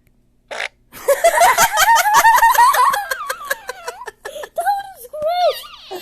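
A fart sound effect played from a phone app, a loud sputtering blast lasting a couple of seconds, followed by children giggling and laughing nearby.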